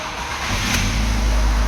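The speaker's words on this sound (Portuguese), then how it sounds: "a gente pode dar partida no carro, né? Vamos funcionar ele." A Jeep Renegade that stumbles under throttle starts up, its engine catching and rising into a loud, close idle rumble that builds toward the end.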